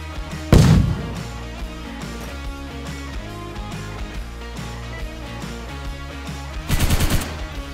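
An M249 machine gun in DayZ fires two loud bursts of rapid shots, one early and one near the end, with quieter gunfire and game ambience in between.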